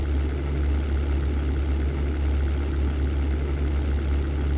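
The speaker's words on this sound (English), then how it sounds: "Slowly getting some altitude, cooling down my engines." Warplane engines in a simulated European air war drone steadily as the aircraft climbs, a dense, constant low rumble with no breaks or talk.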